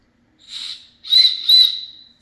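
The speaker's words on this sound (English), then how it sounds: "the worst whistle you've ever heard." Whistle in the plastic handle of a metal spork, blown in three short, shrill, airy toots, one weaker then two louder in quick succession, close and alone.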